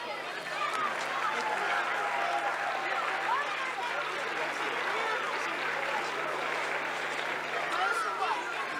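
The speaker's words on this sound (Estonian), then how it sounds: "Võtame need vastu kõige suurema aplausiga." Audience applause at a school spring festival concert greeting the soloists, dense sustained clapping from a large crowd that starts after a short quiet moment and holds steady to the end.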